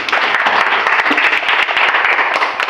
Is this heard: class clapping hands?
yes